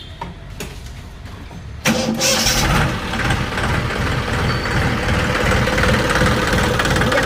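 A quiet rumble gives way to a Swraj 735 FE tractor engine cranking and catching at about two seconds, then settling into a loud, steady, knocking idle; the tractor has a hydraulic fault.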